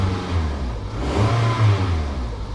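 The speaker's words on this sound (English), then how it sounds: "Engine sounds super healthy." A Toyota Corolla engine runs steadily nearby with a low, even rumble and slight rises in revs, alone with no talk.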